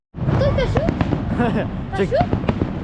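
Fireworks boom and crackle continuously at Niagara Falls under excited voices and shouting, loud and sustained throughout.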